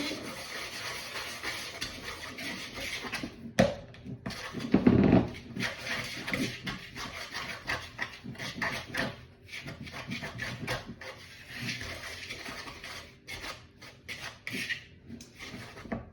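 Pancake batter is stirred in a Tupperware container, soft close scraping and rubbing with a few sharper knocks against the sides, fairly quiet and uneven, without speech.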